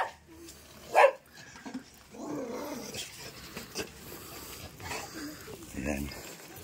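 A dog near a house gives a loud single bark, followed by low growly vocal sounds, while people talk nearby.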